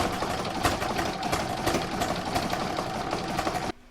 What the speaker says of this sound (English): I'm going to drop my foot and start stitching again